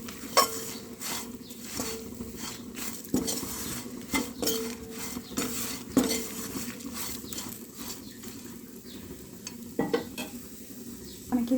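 A utensil scrapes and clinks against a pan as masala powder is stirred into frying food, with irregular metallic taps over a steady sizzle, close up.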